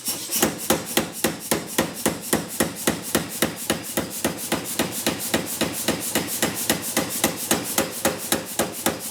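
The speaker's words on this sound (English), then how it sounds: "just hammer it to squish it down from there" Steady, rapid metallic hammer blows ring out one after another in an even rhythm, close and sharp, as a sword-hilt part is flattened, with no talking.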